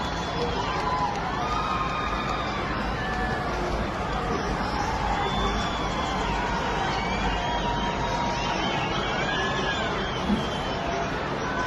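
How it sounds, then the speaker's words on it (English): Crowd cheering at the capture of Maduro, a dense outdoor babble of many voices with shouts and whistles, steady and moderately loud throughout. "Everybody's cheering."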